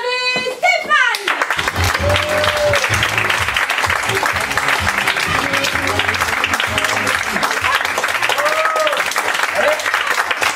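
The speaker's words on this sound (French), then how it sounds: "d'applaudir tous les artistes qui étaient là ce soir" Audience applause for the artists at a concert evening at La Chocolaterie in Montpellier, a loud sustained burst of clapping that starts after a brief musical note and continues throughout, with occasional voices and a faint tonal sound mixed in.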